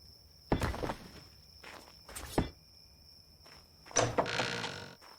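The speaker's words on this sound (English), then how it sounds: "That's big door sounds right there." A large in-game door in ARK: Survival Evolved, part of a modded base build, swings open and shut with two heavy thuds close together, followed by a longer rumbling clatter as it closes.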